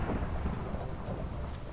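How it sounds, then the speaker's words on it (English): Steady rain falling with a low rumble of thunder beneath it, a continuous dense wash without pauses, moderately loud and with no voices. "God, it's raining!"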